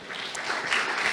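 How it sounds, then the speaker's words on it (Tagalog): Brief burst of congregation clapping during a Sunday worship service, a single second of scattered hand claps with no voices over it. "O, palakpak naman sa Lord."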